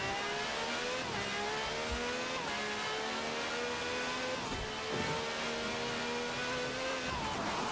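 A Dodge Viper ACR race car in Forza Horizon 4 drives at speed, its engine droning and shifting through gears with brief dips and a faint tire squeal, steady and up close.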